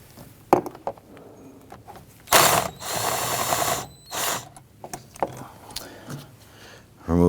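Ratchet wrench loosening the 10mm bolts on a 2011-2015 Kia Sorento air filter box, with loud bursts of rapid clicking between sharp taps and pauses, heard up close.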